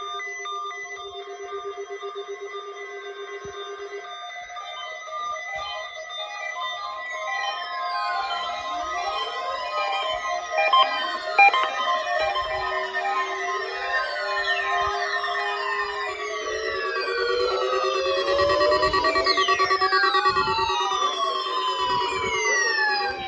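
A weekly National Weather Service test of a weather radio alarm: steady electronic tones give way to many overlapping rising and falling siren-like sweeps that build and continue loudly, with no voices.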